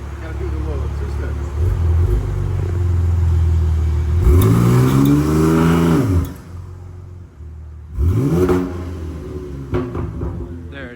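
A BMW M3 Competition xDrive G80, Stage 2 at 800 whp, revs hard on 2-step launch control, with two loud rising-and-falling engine sweeps, popping bursts between them, and someone talking over parts of it.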